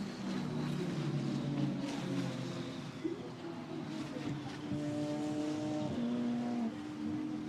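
GT4 race cars circuit racing at Misano, engines droning steadily at close range with rising and falling pitch as cars pass, continuous and loud without talk.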